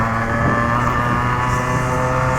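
A Yamaha RX100 motorcycle engine pulls hard in third gear, a loud, steady buzzing drone with a harmonic whine that holds close and continuous throughout, with no talk over it.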